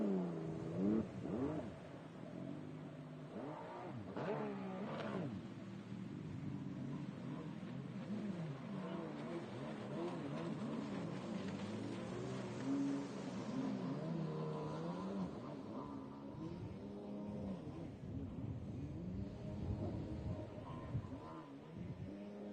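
A 4-stroke Superjet stand-up jet ski engine at a junior national slalom race revs and surges through rising and falling pitch sweeps, fairly distant and moderately loud across the whole stretch.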